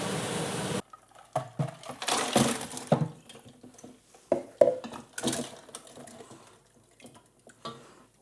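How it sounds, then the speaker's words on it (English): A pot of 100% olive oil soap is shifted into a water bath: a sloshing, running-water start, then scattered metallic clanks, knocks and splashes in a quiet room. "Let's move this to the water bath."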